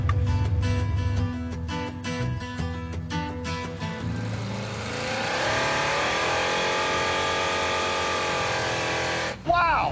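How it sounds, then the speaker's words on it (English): A Chevrolet Impala engine revs hard while accelerating through the gears, a loud sustained roar that climbs in pitch, with people talking over it and a sharp drop near the end. "Wonder if it does rolling burnout still."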